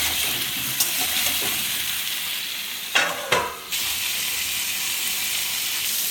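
Vegetables fry in a pan with a little salt, a steady close sizzle and hiss running throughout, broken by a couple of brief clattering stirs partway through.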